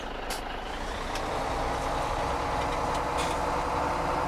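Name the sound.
truck in the video game Farming Simulator 17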